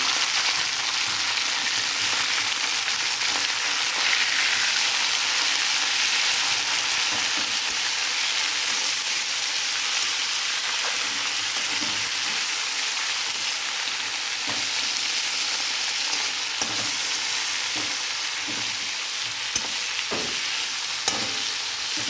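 Fresh green mint leaves frying in a pan over a low gas flame, with a steady soft sizzle and occasional light crackles throughout, close and continuous with no talking.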